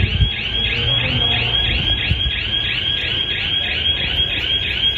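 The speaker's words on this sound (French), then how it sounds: "On a aussi la sirène anti-vol de 130 décibels qui elle est beaucoup plus forte." A 130-decibel motorcycle anti-theft siren wails loud and close, a rapid, even warble of rising electronic chirps repeating without a break over faint background rumble.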